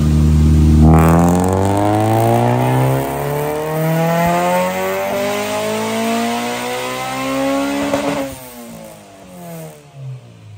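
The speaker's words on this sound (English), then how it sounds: "That is how a VTEC changeover should sound." A Honda Civic VX fitted with a B18C Type R engine pulls hard, its loud revs rising steadily and sharpening into a harsher howl as VTEC engages, then cutting off abruptly near the end.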